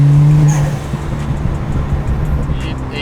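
A tuned BMW 335i with the N54 engine slows on a lift-off, a loud droning engine note that fades after half a second into a low rumble of road and tyre noise, with faint voices nearby.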